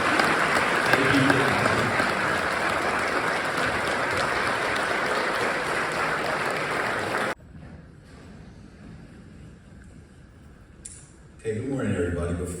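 An audience gives Gina a warm round of applause, steady and full for about seven seconds before cutting away to near quiet, with a voice starting up at the end.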